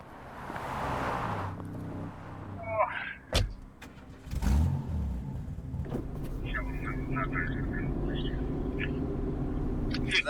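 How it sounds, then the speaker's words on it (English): A car pulls out of a numbered parking spot with its engine running, a steady low rumble that rises and continues under background talk and scattered thumps. "let me pull my car out"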